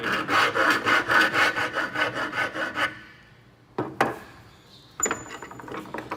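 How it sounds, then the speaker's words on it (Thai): A hand file rasps back and forth across a metal workpiece in a workshop exercise, giving a steady run of loud, close, rhythmic strokes, then a pause with a couple of sharp knocks before shorter strokes resume. "แล้วก็ตะไบ"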